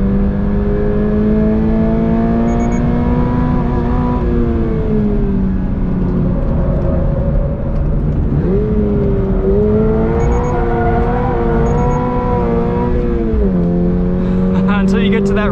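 A 2022 Toyota GR86 Premium on a race track, heard from the cabin as a loud, continuous engine drone that rises and falls with shifts and corners, with a voice occasionally talking underneath.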